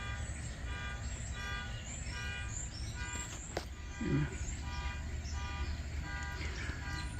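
An alarm beeps with short, evenly repeated tones over a steady background hum in a room where a stovetop coffee pot sits perking on a very low flame.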